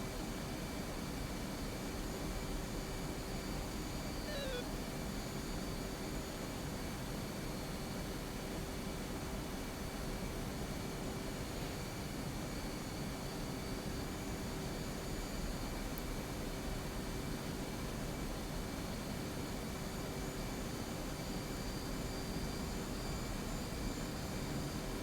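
The engine of an F/A-18 Hornet jet in flight in a video game holds a constant, even, hissing roar for the whole stretch, with no voices or other changes.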